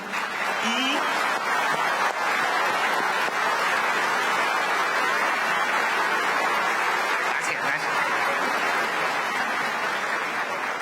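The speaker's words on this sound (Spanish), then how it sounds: "La primera vez que me aplauden." Steady audience applause fills the room, loud and continuous throughout, with someone briefly speaking a word over the clapping.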